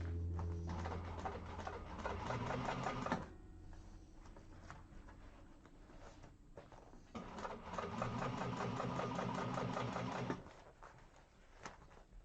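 A sewing machine topstitches through the bottom panel of a zipper bag in two steady bursts of rapid, even stitching, close and loud, with a short quiet pause between them.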